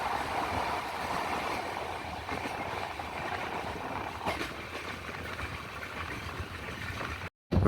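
The Himsagar Express runs past Parassala station, heard from aboard as a steady, loud rushing rumble of wheels and wind that fills the clip before cutting out briefly near the end.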